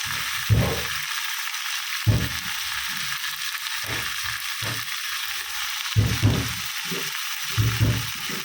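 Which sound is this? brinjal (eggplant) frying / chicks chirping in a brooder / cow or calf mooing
brinjal (eggplant) frying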